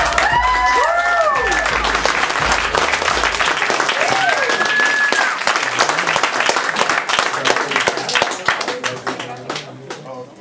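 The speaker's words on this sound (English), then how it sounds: "Let's give it another round of applause." Audience applause at a spoken-word reading series in an art bar, loud sustained clapping and some cheering throughout, with music and voices mixed underneath.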